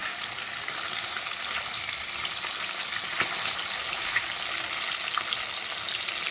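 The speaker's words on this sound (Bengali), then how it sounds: "মাছ তেলের মধ্যে ছেড়ে দিয়েছি, ভাজা হবে 4 পিস" Four pieces of fish and a large fish head frying in hot oil in a pan, a dense, even sizzle that holds steady and fairly loud throughout with no talk.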